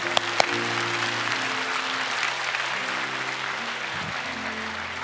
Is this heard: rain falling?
no